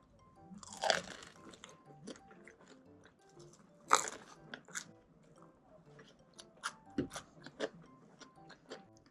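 Crunchy bites and chewing while eating pizza at a home table, close and quiet, with several sharp crunches spread over the stretch and soft mouth sounds between them, no voices.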